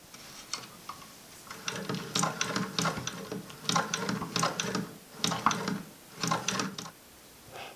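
An antique Grover and Baker sewing machine sewing a double chain stitch, giving off repeated bursts of mechanical clicking and ratcheting close by, in short rhythmic runs separated by brief pauses.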